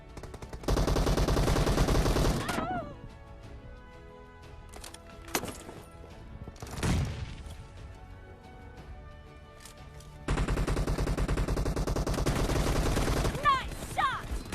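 Automatic gunfire in a BGMI squad team deathmatch, loud sustained bursts at the start and near the end with scattered single shots between, close and sharp.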